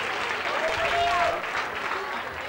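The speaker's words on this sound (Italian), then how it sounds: "Gradirei che tutti voi insieme faceste un applauso alla giuria delegata a nominare questa prima Miss del Graticolato" An audience at a beauty pageant evening applauds the jury, a steady round of clapping in a crowded venue with a voice speaking over it.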